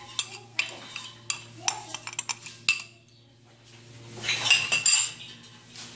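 A spoon stirs sugar into half a cup of water for homemade condensed milk, clinking repeatedly against the container in quick, close taps before a softer swirling rustle.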